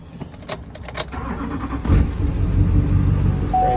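A 2005 Chevrolet Silverado 2500HD with the LLY diesel cranks briefly in the cold after a faint jingle of keys, then catches and settles into a loud, close, steady idle.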